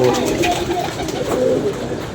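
Pigeons cooing close by, soft repeated throaty coos over a low murmur of background noise, with a faint hint of voices.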